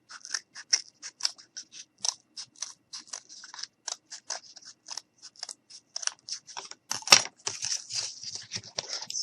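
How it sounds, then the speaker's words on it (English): Scissors snip through cardboard while trimming a snowman top hat ornament: a close, steady run of short crisp cuts, with a slightly denser, scratchier burst of cutting near the end. "Sometimes I just like to cut away the extra cardboard"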